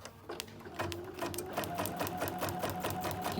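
A sewing machine stitches a basting box on fabric, its needle ticking in rapid, even repeated strokes that speed up after a brief start, close and fairly quiet.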